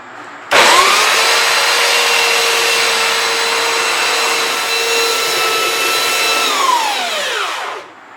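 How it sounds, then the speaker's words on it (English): A belt sander runs on the top surface of a live-edge black walnut slab, making a loud, steady whine that holds for about seven seconds, then spins down. "we're just going to take the belt sander and we're going to clean up this top surface"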